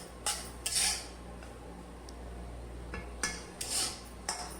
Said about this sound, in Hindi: इसके लिए मैं ये चम्मच में इसी तरह से चलाती जा रही हूँ।